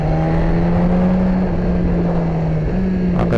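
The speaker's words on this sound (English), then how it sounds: "Bike shifts well without the clutch, like right there, up and down, no clutch." BMW S1000RR sport motorcycle ridden on a rocky backroad, shifting gears without the clutch: a loud close engine drone with sudden pitch steps at each shift, plus wind noise.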